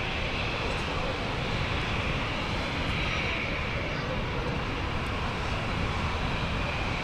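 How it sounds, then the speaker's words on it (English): Lufthansa Boeing 747 at Frankfurt airport, a steady broadband engine roar holding at constant level throughout, with faint voices over the top. "let's go over to the Lufthansa 747."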